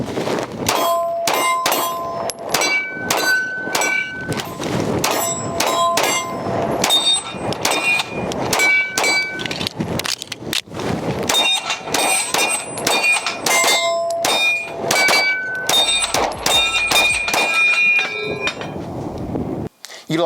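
A Nighthawk Custom TRS Comp pistol fires rapid strings of shots at steel targets while the shooter moves, each crack followed by a sharp ringing clang of struck steel, repeated in quick bursts throughout.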